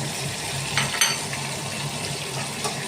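Ginger paste, chili paste and cumin paste for a fish curry fry in a pan with a steady close sizzle, broken by a couple of sharp clinks from a utensil against the pan.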